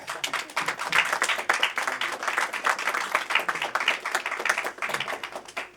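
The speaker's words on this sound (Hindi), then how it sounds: "अगर लगी होती तो फिर तालियां बजती हैं" A church congregation at a Christmas meeting claps together in a dense, steady patter of many hands, fairly loud and sustained for several seconds with no talking over it.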